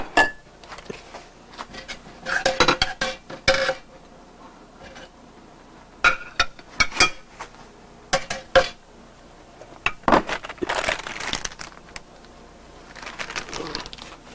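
Pan and utensils clatter while cooking with sauce: bursts of metallic scraping, clinks and knocks come in irregular clusters between quiet gaps, close by.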